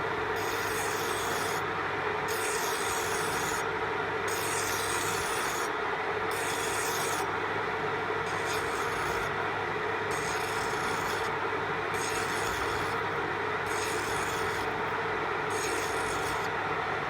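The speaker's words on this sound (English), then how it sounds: "I'm chamfering the edges with the file" A hand file chamfers the edges of a small C45 steel part, making continuous scraping rasps in a regular back-and-forth rhythm, close and fairly loud with no voices.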